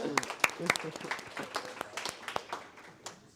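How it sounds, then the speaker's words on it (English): Sparse applause from a small audience at an AI foundations class session: scattered, irregular claps for about three seconds, fairly faint and thinning out by the end. "Applause for it."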